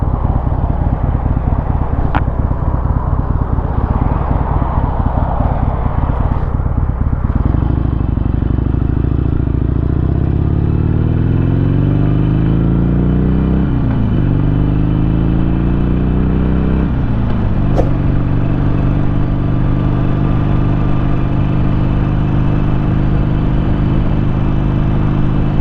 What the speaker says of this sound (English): I'm riding an Iron 883